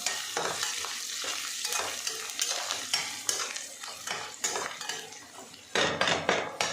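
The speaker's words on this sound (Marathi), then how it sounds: "कांदा परतून झाला की त्यात थोडं लसूण खोबरं टाका आणि परतून घ्या त्याला पण" Onion with garlic and grated coconut sautéing in a pan for a South Indian thali: steady sizzle with repeated scraping and stirring of a spatula against the pan, clinks of utensils, and a louder burst of stirring near the end, no voices.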